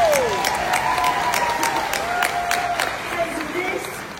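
An audience gives a round of applause, dense clapping that thins and fades over a few seconds, with a voice speaking over it.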